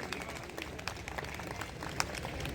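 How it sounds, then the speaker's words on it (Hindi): An audience claps at a bus station inauguration in Khatima, scattered applause heard fairly faint and at a distance, with sparse individual claps over background crowd noise. "तालियों से इनका स्वागत करिए।"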